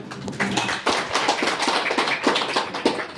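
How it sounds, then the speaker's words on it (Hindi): A crowd at a library meeting applauds with dense, irregular clapping that stays steady and fairly loud for a few seconds. "50-60 तालियां"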